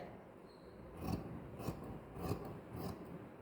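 Scissors cutting fabric for the back piece of a blouse, four slow crisp snips spaced about half a second apart over a quiet background, close and soft, with no voices.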